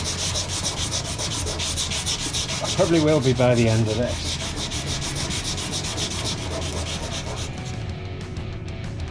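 Continuous abrasive rubbing of sandpaper removing paint from a Ford Escort Cosworth rally car panel, close and steady, with a short comment spoken partway through.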